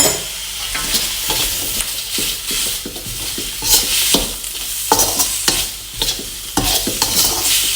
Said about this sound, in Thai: เราจะผัดแบบแห้งๆนะคะ